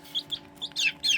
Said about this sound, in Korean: 지금 소리가 세레마 수탉 소리예요.